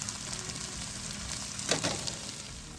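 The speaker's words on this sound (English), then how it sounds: "While your mushroom stuffing is still cooking and simmering" Mushroom and cream cheese stuffing simmers in a pan with a faint, even sizzle and bubbling throughout, plus one brief clink midway, close and quiet with no voices.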